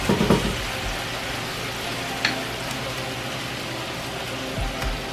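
Bulgogi sauce boils steadily in a pan over fairly high heat with a continuous soft bubbling sizzle and a few brief clinks, a cooking marinade for an eggplant dish.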